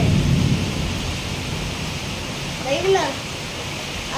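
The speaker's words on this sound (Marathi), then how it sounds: "किती पाऊस पडतोय" Dense, steady roar of heavy rain fills the whole stretch, with a faint voice briefly audible near the end.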